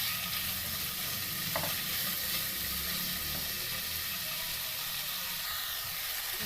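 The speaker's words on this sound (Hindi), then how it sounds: "अब हम इसमें ऐड करेंगे क्यूब्स किए हुए चिकन और हम इसी ऑयल में इसको करेंगे अच्छा सा कलर चेंज होने तक फ्राई करेंगे" Cubed chicken fries in hot oil with a constant dense sizzle and hiss, a faint stir or clink now and then, close and steady throughout.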